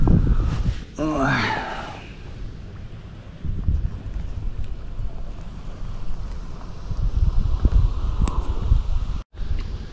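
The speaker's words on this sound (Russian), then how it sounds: "еще этот ветер долбанный поднялся." Strong wind buffeting the microphone outdoors at a fishing spot in low roaring gusts, with someone speaking Russian briefly near the start.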